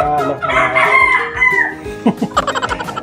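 A derby gamecock crows up close and loud, a long strained call followed by a few sharp clucks.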